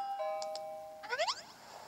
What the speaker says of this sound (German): Oh, es hat an der Tür geklingelt.